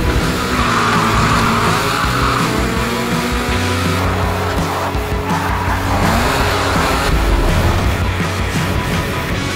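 A Dragon X formula race car with a turbocharged single-cylinder engine runs loudly and continuously, its engine note rising and falling with tire noise and skidding throughout.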